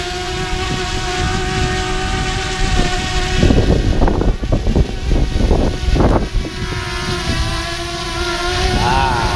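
A DJI Mavic Mini drone gives a steady buzzing drone that hums continuously while strong wind rumbles and buffets the microphone in gusts.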